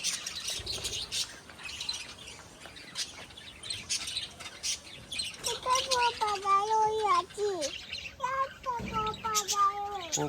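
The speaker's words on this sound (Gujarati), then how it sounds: "ગૌશાળાની અંદર પોપટ કેવા બોલતા" Parrots calling inside a large cow shelter at Salangpur: scattered harsh squawks and chirps, then a run of loud, wavering, tonal calls in the second half, close by with other voices faintly around.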